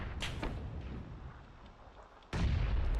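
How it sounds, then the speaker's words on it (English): Grenade explosions in the video game PUBG: a dull distant blast followed by a sudden louder, booming detonation that rumbles on, heard without talk. "Someone throwing grenades at me."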